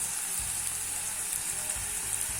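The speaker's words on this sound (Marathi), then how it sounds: "कांदा भाजू दे ना, शिजत आलाय." Chopped onion frying in hot oil in a pan, a steady close sizzling hiss that runs without a break and with no talk over it.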